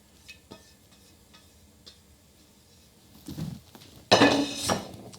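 Spoon clinks faintly against a dish, then thick crab mac and cheese is stirred with soft, squelchy scraping, growing louder over the last two seconds.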